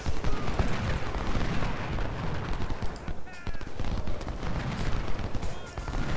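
Civil War cannon and battlefield fire in Ultimate General Civil War forms a continuous dense din of booms and crackling shots, with no break in the noise.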